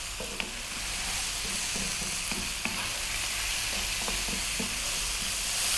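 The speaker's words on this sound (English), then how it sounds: "another 4 minutes. Stir frying around." Mushrooms sizzle in a hot pan while being stir fried for garlic mushroom spaghetti, a soft continuous hiss broken by light scrapes and taps of stirring, close and steady with no voices.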